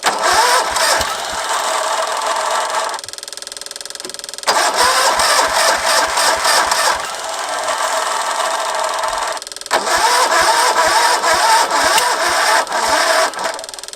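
An old Pontiac engine on an abandoned farm cranks in three separate bursts. Each is a loud, rapid rhythmic chugging that stops without the engine catching, with short quiet gaps between attempts.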